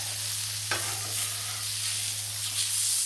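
Fresh-ground brisket burgers sizzling on a Blackstone griddle, a close, continuous crackling fry with a brief scrape or stir near the start.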